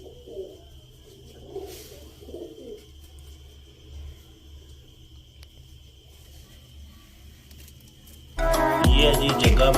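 Soft, low cooing calls of a pigeon with its chick repeat a few times close by, followed by a sudden burst of louder rustling and clatter at the end.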